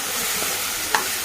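Spoon stirring turmeric, coriander powder and chili powder into a pigeon pea pod curry, a soft continuous scraping and sizzle close by with one brief louder clatter, no voices.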